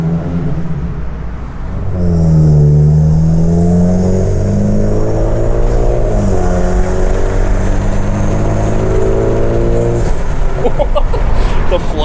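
A VW Golf R with a turbo inlet intake accelerates hard, and its engine rises through rising revs with a rushing turbo whoosh and flutter. The sound is loud and close and lasts several seconds, with voices faintly underneath.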